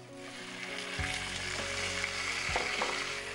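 Rice stirred with cumin in an oiled pan on a studio cooking set, a steady sizzle running throughout with a few sharp scrapes of the spoon against the pan.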